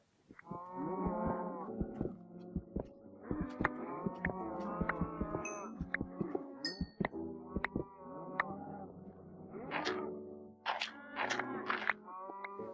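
Cows in the Minecraft video game moo repeatedly, a series of drawn-out lowing calls overlapping one another, moderately loud against a quiet background with a few faint clicks.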